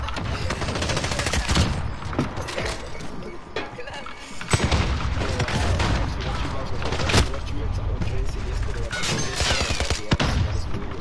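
Shotgun and other gunfire in an online shooter video game: dense, loud bursts of shots and booms, crowding together with a short lull midway.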